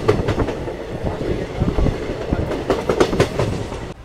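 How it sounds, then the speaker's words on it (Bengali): The 13141 Teesta Torsa Express pulls out of Ambika Kalna station and rolls along the rails. A close, continuous rumble carries a rhythmic clickety-clack of wheels over the rail joints. "আমাদের ট্রেন অম্বিকা কালনা থেকে ঠিক 5টা 3-এ ছেড়ে দিয়েছে।"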